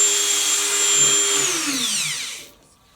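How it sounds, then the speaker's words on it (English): A high-pitched Dremel rotary tool whines steadily close by while grinding, then spins down with a falling pitch before cutting out. "this job here that Nate's doing with the Dremel"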